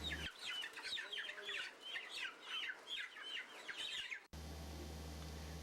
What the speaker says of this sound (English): Live chickens would be kept in pens until sold.